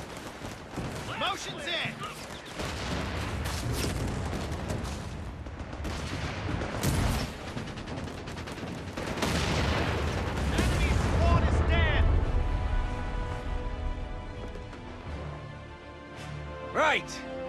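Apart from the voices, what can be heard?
gunfire in the video game Company of Heroes 3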